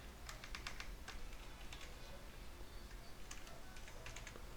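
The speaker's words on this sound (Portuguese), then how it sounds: "eu vou digitar o comando prompt" A command is typed on a computer keyboard, with faint, quick clusters of key clicks in short bursts against a quiet room hiss.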